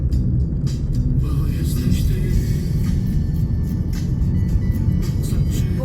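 A car drives along a winding mountain serpentine road, a constant loud rumble of engine and tyres inside the cabin with faint higher road noise on top.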